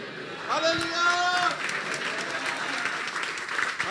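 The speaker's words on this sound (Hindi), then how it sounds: "तालियां बजा रहे हो" Audience clapping at a church sermon, a sustained wash of applause that swells after the first half-second and carries on steadily to the end, with a few faint sustained tones layered on top early on.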